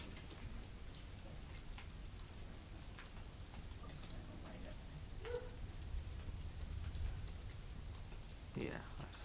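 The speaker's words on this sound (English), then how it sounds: "You can just see the rain coming way out there." Rain falls during a desert lightning storm, a faint, steady patter of drops on surfaces with occasional ticks, and distant voices murmuring in the background.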